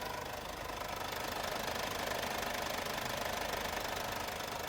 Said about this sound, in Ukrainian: Також послухаємо, у нас працює мотор. Мотор працює рівненько, ідеально.